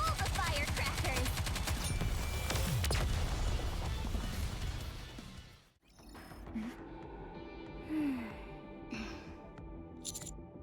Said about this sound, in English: Going to set off all the firecrackers!